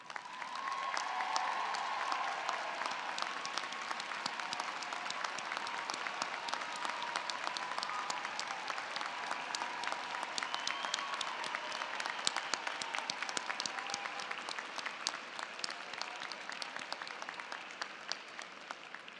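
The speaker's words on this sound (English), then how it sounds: "Would the family members of our graduating students please rise to receive our recognition and applause." An audience at a graduate commencement ceremony applauds the graduates' families, a dense, even wash of clapping from a large crowd that holds steady for nearly twenty seconds.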